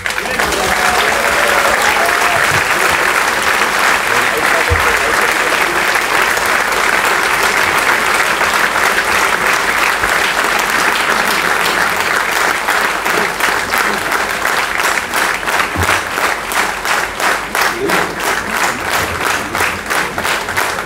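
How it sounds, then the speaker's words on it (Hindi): Sustained, loud audience applause for Amitabh Bachchan at a ceremony where he receives the Lata Deenanath Mangeshkar Puraskar, a dense, even roar of many hands clapping that grows into a more rhythmic, unified beat toward the end. "ये अमिताभ बच्चन के लिए तालियां हैं, किसी कंडक्टर की नहीं चलेगी।"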